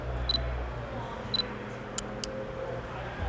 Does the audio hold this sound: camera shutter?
yes